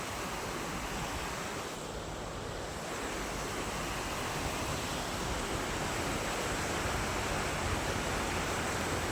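Waste water flowing strongly through a channel near the Kundu river in Nandyal, a loud, steady, broadband rushing roar that continues without a break.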